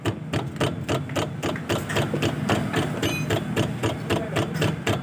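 A worn suspension joint on a Maruti Alto 800 knocks in a fast, regular string of sharp clacks, close and loud over a low mechanical hum, repeating steadily throughout.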